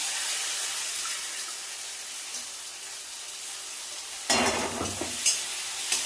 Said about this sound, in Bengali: পেঁয়াজটা ভালো করে ভেজে নিয়েছি, দিয়ে দেব আদা রসুন বাটা